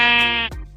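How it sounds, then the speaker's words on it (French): A single sheep bleats in the video game Minecraft, version 1.8, loud and close, with one wavering call that cuts off after under a second. "J'ai vu quelques moutons dans la montagne et ai sauté sur l'occasion."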